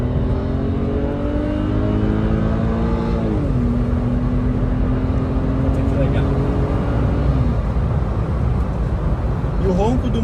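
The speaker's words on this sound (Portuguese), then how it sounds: "O ronco do motor 6 cilindros N52 da BMW é realmente mágico, né?" A 2009 BMW 130i M Sport with its N52 3.0-litre inline six, heard from the cabin as it pulls through the gears, a smooth rising engine note with a drop at a shift, under steady road noise.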